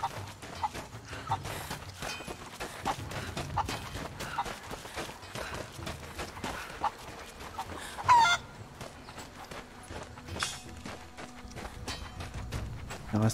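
Chickens clucking in a village in the video game Rise of the Tomb Raider, faint among busy game ambience with thuds and movement noise.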